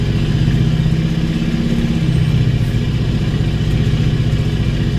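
A CAT truck engine with a two-speed axle drones loud and close while shifting, a steady low rumble that dips slightly in pitch partway through.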